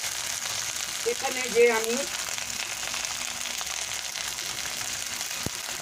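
A papaya vegetable dish with ginger sizzles and fries steadily in a pan, loud and close, while someone speaks briefly over the hiss.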